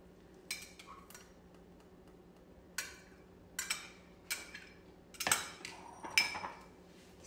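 Dry pasta ingredients tipped into a Saladmaster pot, heard as a series of separate metallic clinks and clatters with quiet gaps between them, close by and growing busier toward the end.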